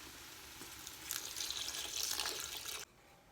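Two cups of milk pour steadily into a pot of Italian sausage and kale soup, a close, soft liquid rush that swells for about two seconds and then stops abruptly.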